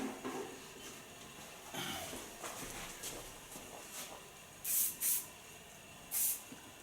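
Hairspray hisses onto a short platinum-blonde pixie cut in three quick bursts, two close together and then one more, crisp and near over a quiet salon background.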